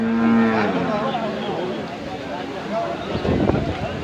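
A cow moos with a long, low, tonal call near the start, followed by people talking and rustling outdoors at a cattle market.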